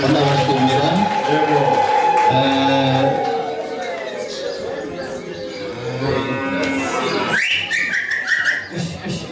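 A cow moos in long, loud, drawn-out lowing calls nearby, repeated over several seconds. Voices and other background sounds are mixed in beneath.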